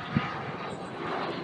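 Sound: private jet landing

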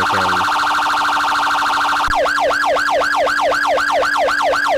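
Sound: police sirens in the Roblox video game Mano County

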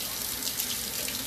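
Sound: tap water running while washing something off in the sink

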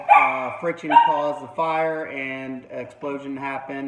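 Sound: dogs barking in the background

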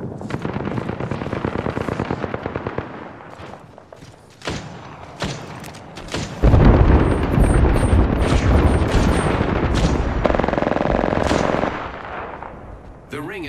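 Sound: artillery strike in Apex Legends video game

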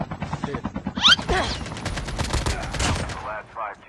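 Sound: gunshots in a video game

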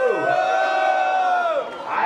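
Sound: crowd cheering and shouting at a rap battle vote

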